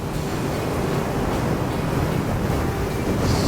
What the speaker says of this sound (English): Really strong wind going this way